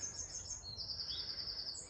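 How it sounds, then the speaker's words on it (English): Several small birds squabble and chirp in bright, overlapping high calls that run continuously over about two seconds, fairly close, against a low outdoor rumble. "Birds are having a fight."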